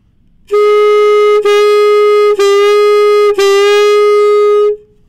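A saxophone played with a loose, relaxed embouchure holds one sustained, slightly buzzy note, briefly interrupted three times by tongue articulations, then stops.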